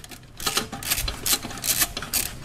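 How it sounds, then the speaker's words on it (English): A 10mm bolt being removed on a Kia, heard as fast, rapid clicking ratchet bursts up close, repeating in short runs with brief pauses. "Right here, guys, okay, 10mm bolt. Okay, that we need to remove."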